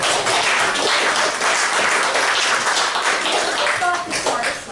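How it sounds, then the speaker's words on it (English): A crowd applauds at an event in Columbus, Ohio, and the clapping holds as a dense, loud, continuous roar throughout. "Let's give Columbus, Ohio a beautiful applause"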